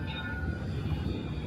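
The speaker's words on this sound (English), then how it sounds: "Look at these trams." A modern tram rolls past on a street in China, its steady rumble and rail hum forming a continuous, fairly close wash of sound with no voices.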